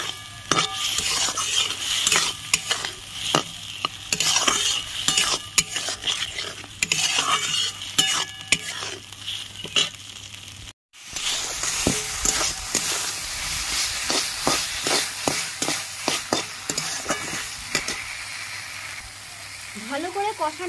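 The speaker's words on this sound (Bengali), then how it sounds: "এবার ভালো করে কষিয়ে নেব।" Vegetables and spices for Bengali shukto stir-fried in a pan, with a steady sizzle and repeated scraping, clattering strokes of a spatula against metal; brief pause midway, then vigorous stirring resumes close by.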